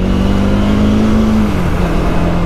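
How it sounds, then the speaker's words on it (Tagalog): A nearby car engine hums steadily with a faint drone that dips slightly, set against a constant wash of road traffic noise on a busy street, loud and without voices. "dahil napakadami ng sasakyan"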